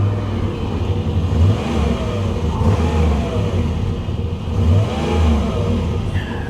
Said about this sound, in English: give it a little rev, just see how it sounds